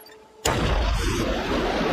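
After a quiet moment, a snapping shrimp's claw snaps shut underwater with a single loud, sudden crack, followed by a sustained, noisy rush of collapsing bubbles.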